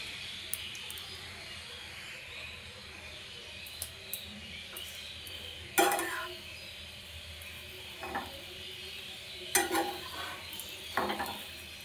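Potato mixture being stirred and mixed for bread chops in a pan on a gas stove, with soft scraping and a few sharp utensil clinks against the pan at irregular intervals.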